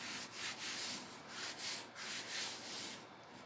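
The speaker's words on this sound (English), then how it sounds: "Just going to take my sandpaper and just grab these edges a little." Sandpaper rubbing along the edges of a canvas art piece in steady, repeated strokes, a close, soft rasping that rises and falls in rhythm with no voices.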